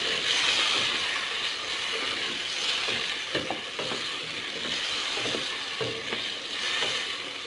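Chicken browned dark with ginger-garlic paste is stirred in a pan for a biryani, a steady close sizzle with repeated scraping and clinking strokes of the spoon against the pan, no voices.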